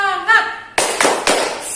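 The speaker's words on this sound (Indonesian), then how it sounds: "Kita mau tepuk semangat dulu." Children doing a rhythmic tepuk semangat clap at a Sunday school service, three sharp hand claps in quick succession following a brief spoken call.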